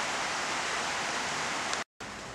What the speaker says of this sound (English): It's kind of a rainy day, so you might hear the rain on the roof.